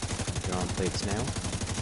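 Rapid bursts of automatic gunfire from the video game The Division 2 during a raid, loud and close, with a voice talking over the shots.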